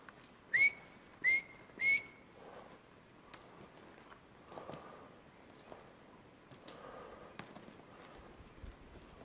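A small whistler bird calls close by in a quiet forest clearing with no wind, giving three short rising whistles in quick succession, followed by faint rustling and scattered light clicks.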